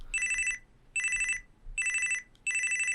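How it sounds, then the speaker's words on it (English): A Panasonic X400 flip phone rings with a shrill, old-school electronic trill, sounding in four loud bursts with short gaps between them, alone without talk. "all the ringtones pretty much sound like this"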